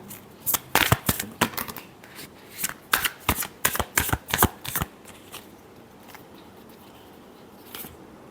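Tarot cards being shuffled by hand during a love reading: a quick run of sharp riffling bursts for about five seconds, then quiet with one faint flick near the end.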